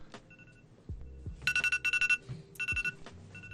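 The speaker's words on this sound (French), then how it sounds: "Elle est angoissante cette sonnerie. elle me rappelle mon réveil" A telephone ringtone in the style of an alarm clock rings in bright, rapid bursts, two clusters of fast pulsing rings separated by a short gap, with soft thuds and faint background noise between them.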